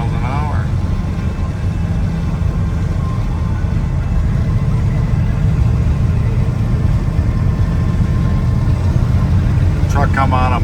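A 1987 Chevrolet truck cruises down the road at about 60 mph, its engine and road noise droning steadily and loudly throughout, with a voice talking over it and a faint warbling tone near the end.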